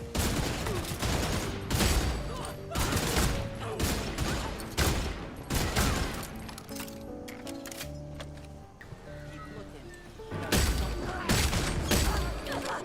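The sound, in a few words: headshot gunfire sound effect in the video game Redfall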